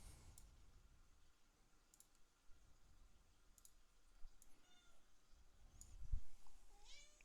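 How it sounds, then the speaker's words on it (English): A pet cat meows faintly a few times, with the loudest cries near the end, alongside soft clicking during a tabletop Dungeons & Dragons game session. "my cat is deciding that she's more important than the Dungeons & Dragons game"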